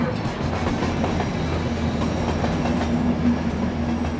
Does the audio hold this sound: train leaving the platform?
yes